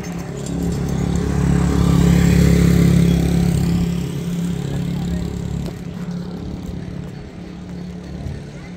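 Motorcycles on a road during a group touring ride, a steady engine rumble that swells, then eases to a lower, continuous drone.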